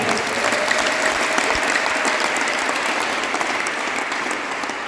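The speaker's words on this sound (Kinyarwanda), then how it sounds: "Twayikomera amashyi ko ari data." A church congregation claps together in sustained, dense applause, loud and steady throughout with no voices standing out.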